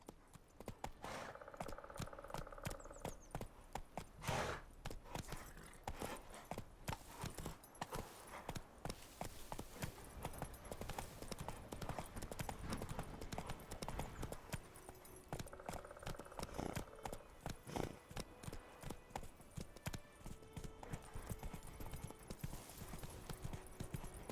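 Hooves of Roach, Geralt's horse in the video game The Witcher 3, pound in a fast, steady run, loud and close throughout, with jangling tack and a brief whinny.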